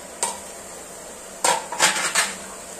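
Leafy greens being mixed in a pan over low heat: a few sharp metallic clanks and scrapes of a spoon against the pan, close, over a faint sizzle, no talk.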